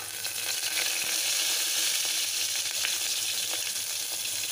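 Cumin, mustard seeds and curry leaves sizzle steadily in hot ghee for a khichdi, making a close, even crackling hiss that never lets up.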